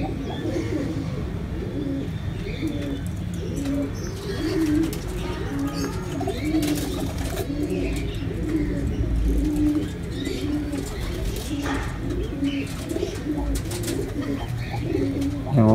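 Pigeons cooing steadily in a new breeding loft, a dense layered chorus of low rolling coos with occasional chirps, close and continuous throughout, faint voices in the background.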